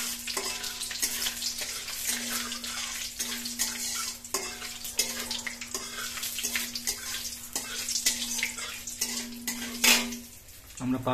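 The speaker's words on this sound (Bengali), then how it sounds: "আমরা পাঁচফোড়ন দিয়ে দিয়েছি। জাস্ট এখন আমাদের এটা ভাজা হয়ে গেছে" Panch phoron spices with bay leaf fry in oil in a pan, a continuous close sizzle punctuated by repeated clinks and scrapes of a utensil against the pan, with no talking.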